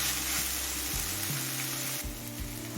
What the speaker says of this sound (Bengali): এবার আদা রসুনের কাঁচা গন্ধ চলে যাওয়া পর্যন্ত কষিয়ে নেব।